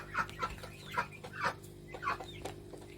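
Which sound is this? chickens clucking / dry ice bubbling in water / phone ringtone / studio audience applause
chickens clucking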